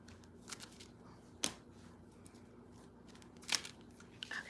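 Tarot cards are shuffled in a quiet room, with a few brief, soft riffling bursts spaced a second or two apart against faint background hiss.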